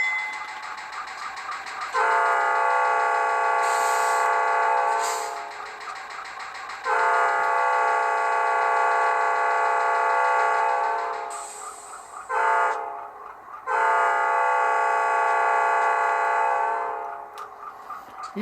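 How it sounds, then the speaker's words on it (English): An HO-scale Rapido C36-7 model diesel horn from an ESU DCC sound decoder sounds in three long blasts with brief gaps, loud and close, over a faint mechanical hum. "create that short horn for the grade crossing"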